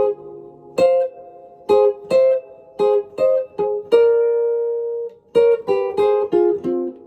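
Jazz guitar chord melody played in thirds, a clean run of paired notes in short and sustained strokes with one long held interval, close and alone without talk.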